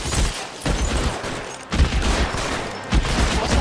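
Gunfire in the video game L.A. Noire: repeated loud, close bursts of shots in volleys separated by short lulls, punchy and broadband with faint background rumble and no voices.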